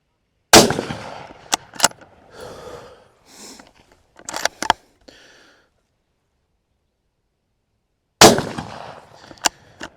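A CVA Cascade .22-250 bolt-action rifle fires two sharp, loud reports several seconds apart, each with a short ringing decay. Quieter mechanical clicks and clatter of the bolt working fill the gap between the shots.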